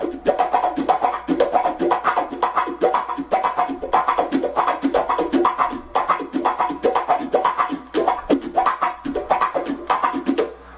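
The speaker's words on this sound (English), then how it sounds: "then something else that you could add is add a wah pedal." An electric guitar run through a wah pedal, strings held muted, chugs out rapid percussive sixteenth-note scratches in a steady funk rhythm, each muted stroke swept by the wah, played alone and fairly close.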